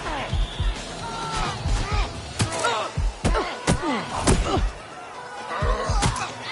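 Repeated punch impacts land in a Watch Dogs Legion brawl, sharp slams and thuds arriving in irregular bursts, close and loud over a busy game soundtrack with a voice talking throughout.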